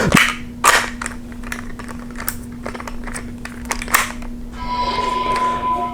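A Star Wars Holocron toy cube from Disney's Galaxy's Edge gets a green kyber crystal loaded into it, giving sharp plastic clicks and snaps and then a bright electronic tone over a steady low hum.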